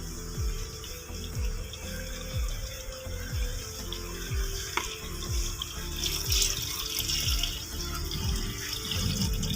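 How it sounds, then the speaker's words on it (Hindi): Water splashes steadily into a cooking pot of aloo gosht, a continuous pouring gurgle from close by with faint rhythmic knocks beneath it. "और अभी मैं इसमें पानी डालूंगी।"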